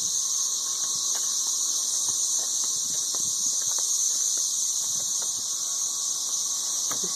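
Loud 13-year periodical cicadas in Nashville, Tennessee, fill the air with a dense, continuous high-pitched droning buzz that holds steady throughout, with faint scattered background knocks beneath.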